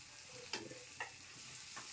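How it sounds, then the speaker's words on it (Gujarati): Onions and green chillies with curry leaves fry gently in a pan, a soft steady sizzle with a few faint stirring clinks of a spoon against the metal, quiet and close. "એને આપણે 1 મિનિટ માટે હલકી એવી ફ્રાય થવા દઈશું।"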